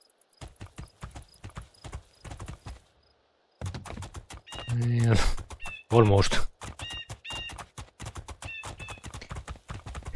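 A horse gallops in the PC game Two Worlds 2, its hooves beating a quick, loud, steady clip-clop rhythm. A whinny cuts in partway, the hoofbeats pause for a moment, and a voice speaks briefly over them.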